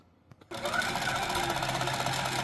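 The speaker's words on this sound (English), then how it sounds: "So now I am stitching out the second row" An embroidery sewing machine stitches out a row of a pattern panel, starting after a brief quiet moment with a steady, close, continuous rapid mechanical whirring and needle clatter that holds even to the end.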